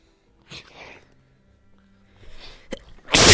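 A single sneeze from a person in a VRChat roleplay session, with a soft breathy build-up before a sharp burst, fairly close and loud, amid quiet background voices.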